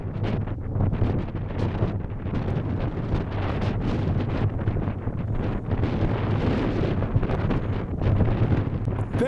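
Strong wind blows across an open Yorkshire Dales hillside on Ingleborough, buffeting the microphone with a loud, steady roar and rumble.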